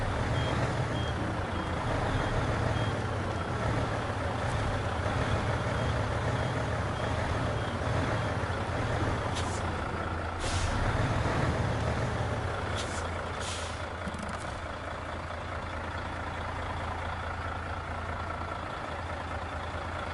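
In the video game SnowRunner, a heavy truck reverses and parks with a steady low engine drone, repeated reversing beeps, and short hisses from the air brake, all loud and close with no talk.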